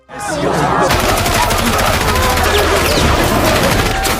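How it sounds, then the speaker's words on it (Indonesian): Sustained, dense gunfire fills a shootout between police and robbers in an action film, with rapid overlapping automatic bursts and shots that stay loud and chaotic from start to finish. "Lalu terjadilah aksi tembak-menembak dari para polisi dan perampok"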